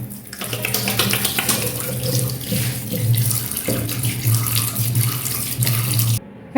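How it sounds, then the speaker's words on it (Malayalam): Tap water runs steadily into a sink while a face is washed during a night skin care routine, a close continuous splashing rush that stops abruptly near the end, with no talking. "ഞാൻ ഫേസ് വാഷ് ചെയ്യാൻ പോണ"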